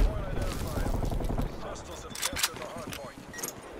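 Gunfire in the shooter game Call of Duty: Black Ops Cold War, a dense burst of rapid shots up front followed by scattered sharper cracks, all mixed with voices talking throughout.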